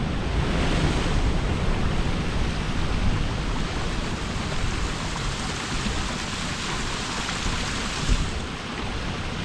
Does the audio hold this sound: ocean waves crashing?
yes